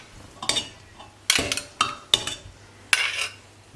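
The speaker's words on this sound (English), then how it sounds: "putting them in our press and squeezing them through in here" Boiled potatoes being squeezed through a metal potato press: a series of sharp metallic clanks and clicks at irregular intervals, close and fairly loud, with soft handling noise between them.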